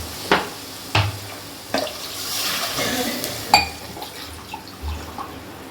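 Water splashes and trickles into a metal cooking pot at home during Karadaiyan Nombu festival cooking, with a few sharp clinks of cookware scattered through the pouring, close by.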